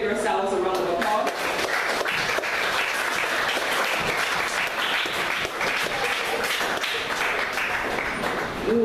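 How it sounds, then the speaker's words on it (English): A church congregation at a thanksgiving service applauds itself, steady dense clapping filling the room for nearly nine seconds, with a brief voice at the very start. "So please give yourselves a round of applause."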